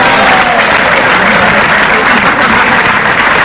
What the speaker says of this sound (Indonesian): Tepuk tangan untuk CGR.